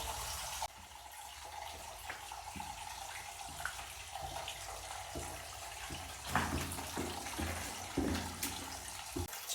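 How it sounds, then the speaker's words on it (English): Water trickles steadily from a small waterfall inside a stone tunnel in a Derbyshire village, a continuous close wash with a few brief knocks and footstep-like thumps over it. "that's where the sound of trickling water's coming from, the little waterfall"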